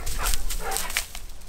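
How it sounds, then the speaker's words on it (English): A playful dog barks and yips in short bursts outdoors, several quick vocalizations close by with steady background noise. "We have a dog that wants to play."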